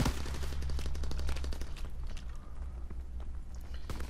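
Rapid semi-automatic gunfire rattles from a new weapon in the WW2 shooter HardPoint, a fast run of sharp shots over the first half, then sparser single cracks amid game noise.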